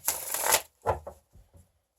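Tarot cards being shuffled: a dense riffling burst lasting about half a second, then a few short soft taps and slides as the deck settles, close and fairly quiet with no talking.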